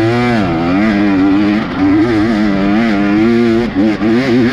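An off-road vehicle climbs a steep, stepped hill on forest trails in third gear, its engine droning loud and close with a steady, rising and falling revving tone throughout.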